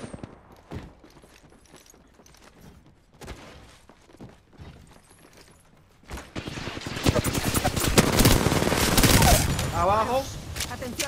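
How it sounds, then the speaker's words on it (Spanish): Gunfire in the Apex Legends video game, with bursts of rapid automatic shots that swell into dense, loud volleys in the second half, under excited spoken game chatter. "Atención, me están disparando."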